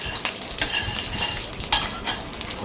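Ghee and oil sizzling in a kadai, a steady close frying hiss with a few scraping clinks of a spatula against the pan, no voices.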